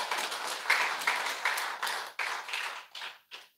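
A church congregation claps loudly during a sermon, a run of sharp, evenly spaced bursts of applause that thin out and fade toward the end.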